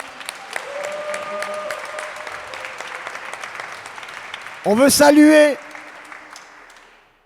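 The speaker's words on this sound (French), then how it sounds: "On peut les applaudir." An audience at a cabaret performance in a Saint-Denis museum applauds the performers with steady clapping, while a host keeps talking over it and a brief burst of music cuts in near the end.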